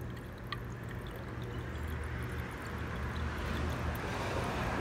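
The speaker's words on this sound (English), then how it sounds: "I'm gonna add some vinegar." Liquid pouring steadily into the radiator of a 2001 Triumph Sprint RS 955i motorcycle, a quiet continuous trickling wash of vinegar and water with no talk.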